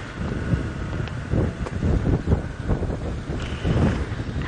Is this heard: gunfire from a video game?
no